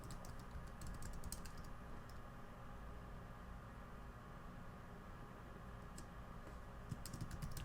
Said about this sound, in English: you can just type it out